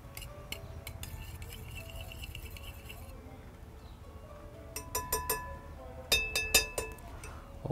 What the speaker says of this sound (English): And then gently stir everything